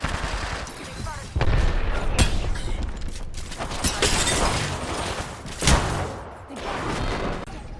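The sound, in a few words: frag grenade explosion in a video game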